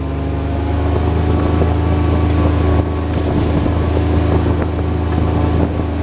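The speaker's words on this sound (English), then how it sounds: "It is windy up here" Strong wind roars steadily across a hilltop among oak trees, a loud, broad buffeting rush with gusts that swells and shifts throughout without letup.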